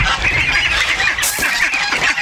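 Flock of young ducks, once baby ducks, calling loudly and continuously in a farmyard pen, a dense overlapping chorus of quacks and honks close by with no talk.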